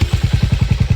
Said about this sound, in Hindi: सो यहाँ पे एक बार एग्जॉस्ट सुन लेते हैं इसका, एग्जॉस्ट नोट कैसा है इसका?